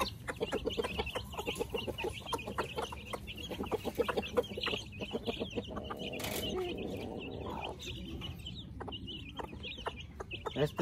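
Chicks and hens cluck and peep continuously at close range while being fed, with many overlapping short calls forming a busy, steady chatter.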